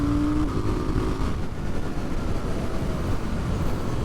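A KTM 990 Duke R motorcycle pulling hard at full throttle after a quick-shifter blip, its engine a loud, steady drone throughout with wind roar, no speech.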